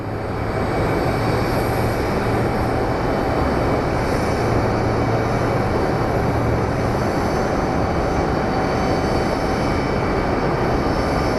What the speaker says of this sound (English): So join us as we look at some planes land.